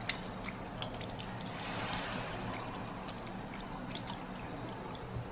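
Water pours steadily from a tap while hands are washed with soap, a soft continuous splashing trickle heard up close, with no talking.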